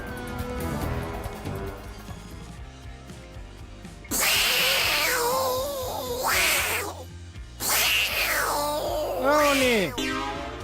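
A cat meows several times, drawn-out, wavering cries that rise and fall, close by, with some background noise and music underneath.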